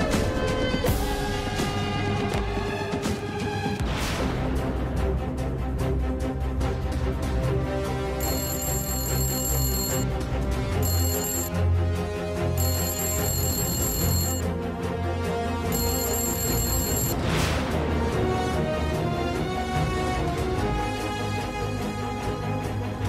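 A telephone rings in a Telugu TV serial scene, a repeated electronic ringtone pattern set against continuous background music, with the ringing bursts recurring for the full length and no talk.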